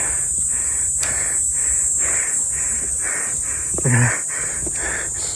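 A hiker pants heavily and rhythmically while climbing the steep Mt Nokogiri trail. The quick, close breaths repeat steadily over a constant high-pitched background whine.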